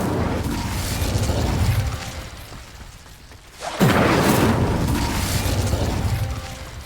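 An Incendio fire spell is cast in Hogwarts Legacy, releasing one sudden roaring, booming burst of flame that swells loud after a quieter stretch of game ambience, then holds as a rushing fiery roar.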